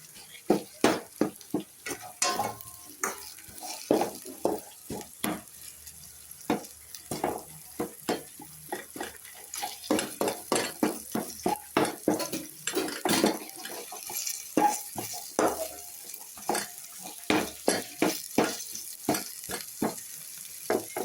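Chicken frying in a pan for chicken samosa filling while a utensil stirs it, with repeated sharp scrapes and clinks against the pan over a steady sizzle, close and rhythmic throughout.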